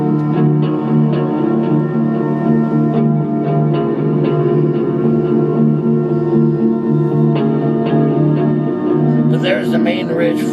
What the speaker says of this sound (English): that sound is a huge reverb